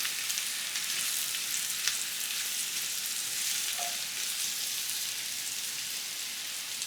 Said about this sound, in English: We're gonna let these cook nicely, get some nice color on them.